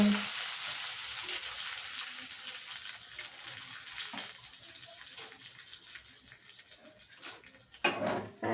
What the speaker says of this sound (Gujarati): આપણે આ રીતે થોડી થોડી દાળ એડ કરી લેવાની છે